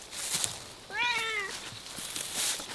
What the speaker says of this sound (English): I need to remove that cat here.